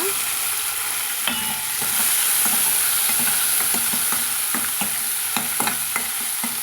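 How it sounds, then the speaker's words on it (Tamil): Steady sizzling of tomatoes sautéing in a hot pan with occasional clinks and scrapes of a spatula stirring, close and continuous, no talking. "நல்லா தக்காளி வதங்கி வரட்டுங்க"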